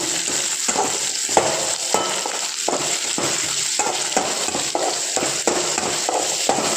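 Onions frying in a pan for mint chutney, browning in oil with a steady, close sizzle and a rhythmic scrape of stirring repeating about every half second throughout.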